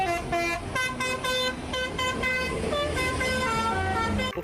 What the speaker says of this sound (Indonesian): Bus telolet.